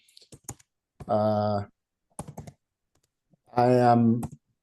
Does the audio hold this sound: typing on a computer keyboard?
yes